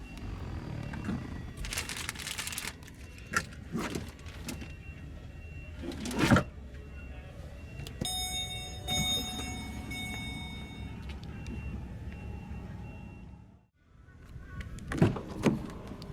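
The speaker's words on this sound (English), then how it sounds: "just by the simple push of a button, you can fold the seats down" Power-folding rear seats in a 2017 Ford Expedition EL Platinum whir with electric motors, alongside several clunks and latch knocks as they fold down. A short drop to near silence comes before a last thud, with no talking.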